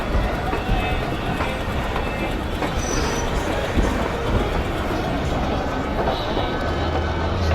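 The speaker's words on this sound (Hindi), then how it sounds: "और हमारे बगल के प्लेटफॉर्म में WDM3D के साथ कोई LHB ERS टाटा नगर एक्सप्रेस 18190 आ चुकी है" A train hauled by a WDM3D diesel locomotive rolls past a station in the Railworks simulator, with a loud, steady rumble of wheels and cars and faint squeals, alone and without a break.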